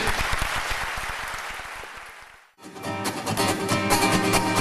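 Applause from a stage-show audience greeting a duo, a dense, sustained wash of many hands clapping that cuts off abruptly midway before a loud, bright music-like passage takes over.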